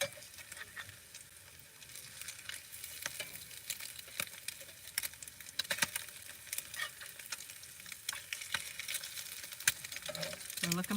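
Eggs fry in a pan at an outdoor camp in Slab City, cooked all the way through, giving a steady crackling sizzle with frequent sharp pops and spatters that carry on without pause.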